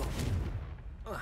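A Confringo blasting spell explodes in Hogwarts Legacy with a short, deep, booming burst that rumbles and then fades, followed by a brief swishing tail.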